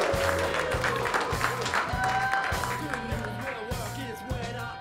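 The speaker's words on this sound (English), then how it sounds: "Can we have a warm round of applause for Agenity?" Audience applause at a startup showcase in Atlanta, a dense clapping wash under a speaker's amplified voice and rhythmic low thumps from background music.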